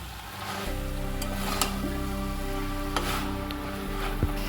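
Greens (telakuchi leaves) being stirred with sugar in a pan, a steady low cooking hum with a few soft scraping clicks and occasional faint knocks, no talking.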